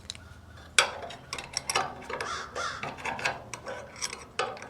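Several crows caw repeatedly outdoors during a ball joint job on a GM vehicle, their harsh calls coming in irregular bursts at moderate distance over faint background noise.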